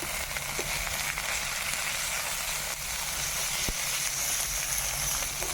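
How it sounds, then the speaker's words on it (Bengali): Bay leaf, dried red chilli, whole cumin, onion and ginger paste sizzling in hot tempering oil for an Indian village-style fish recipe, a loud, dense and continuous frying hiss with faint clicks. "ফোড়নে দেবো তেজপাতা শুকনো লঙ্কা গোটা জিরে করা পেঁয়াজ আদা বাটা"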